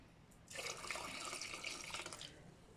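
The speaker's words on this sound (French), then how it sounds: "Pour pouvoir ajouter de l'eau pour que la pâte ne soit pas trop dure." Water pours steadily into fermented cassava dough, a close splashing stream that starts abruptly and runs for about two seconds before easing off, with no talking.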